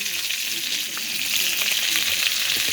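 Koi fish sizzles steadily in hot oil on a clay stove, a continuous close frying hiss with faint crackles and a few soft stirring sounds.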